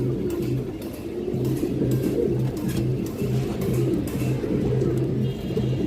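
Pigeons coo on a pigeon farm, repeated low rolling coos in a steady rhythm from several birds close by, with no voices over them.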